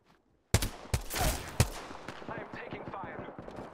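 Gunfire in an online shooter video game: several sharp shots crack out in the first second, then continuous rattling fire and clatter follow, loud and close, with no talk over it.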